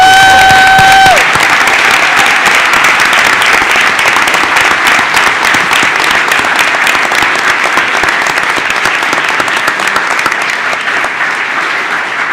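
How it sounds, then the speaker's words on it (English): Large audience at a school board meeting giving sustained, loud applause for the Kleb Orchestra, dense clapping continuing evenly for over ten seconds after a brief tone at the start. "Congratulations to the Kleb Orchestra. Give them a round of applause."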